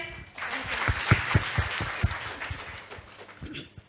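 An audience at a gathering of women entrepreneurs claps for a speaker named Netra, a burst of applause from a small room that rises quickly, holds, then thins out.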